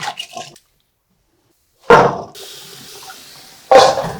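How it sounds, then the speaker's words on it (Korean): Tap water runs and splashes in a kitchen sink while peeled garlic cloves are rinsed by hand, coming in two loud bursts separated by a silent gap, with a brief splash at the start. "마늘을 또 살살살살 비벼서 속껍질을 다 벗겨서 씻어줘야 돼요"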